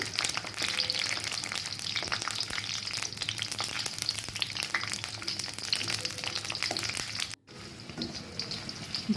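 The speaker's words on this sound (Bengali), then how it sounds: "একে একে কাঁচামরিচ এবং শুকনো মরিচগুলো ভেজে নিচ্ছি" Green and dried chillies sizzle steadily in half a cup of mustard oil along with onion and garlic, a continuous close crackling hiss that pauses briefly near the end, with no talking.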